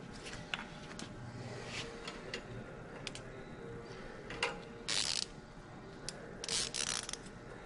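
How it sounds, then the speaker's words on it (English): A hand ratchet clicks in quick, quiet bursts while tightening nuts on high-pressure fuel pump lines of a 2013 ISL engine, with a few louder metallic knocks in between. "Get both sides started before you tighten them down."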